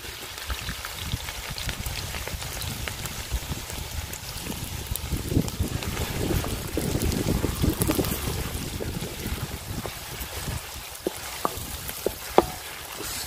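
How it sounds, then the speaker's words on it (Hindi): Garlic and ginger frying in hot oil for Peshawari beef karahi, a continuous loud sizzle with dense crackling and a few sharper pops, close and steady throughout. "2 से 3 मिनट अच्छे तरीके से भूनेंगे लहसुन और अदरक को"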